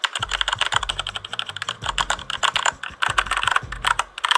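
Fast typing on a Corsair K60 Vengeance mechanical keyboard, with dense, crisp key clacks in rapid irregular bursts, loud and close, no voices.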